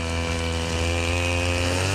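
Grass cutter engine droning steadily in a vegetable field of eggplants, a loud, continuous buzzing whine held close and unbroken with no voices.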